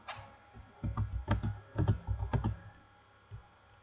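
Keys tapped and clicked on a computer keyboard while editing variables in SPSS statistics software: close, quick clusters of keystrokes across the middle of the moment, then one last lone click, with no talking.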